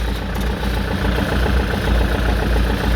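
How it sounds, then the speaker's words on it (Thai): A Kubota L4508DI diesel tractor engine idles steadily up close, a constant low rumble with an even, unchanging throb throughout. "เครื่องยนต์เดินเรียบนะครับ"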